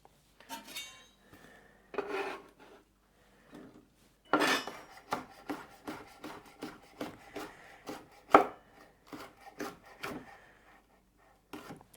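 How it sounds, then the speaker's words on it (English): A knife roughly chops cayenne chilies on a board for curry paste, giving a close, steady run of sharp, evenly spaced taps after a few scattered cuts, with no voices. "I'm just going to roughly chop because those are going to go in the food processor for the curry paste"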